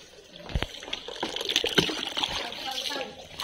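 Water splashes and trickles as it pours for garden watering, with soft gushing sounds close by and faint voices in the background.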